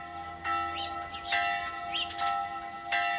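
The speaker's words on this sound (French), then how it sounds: "Dans cette tour, la cloche des égarés guide les randonneurs en cas de mauvais temps" Bell in the tower of the La Jasserie mountain refuge, perched at 1347 metres, tolling several times with long ringing overtones over a quiet outdoor background, no one talking.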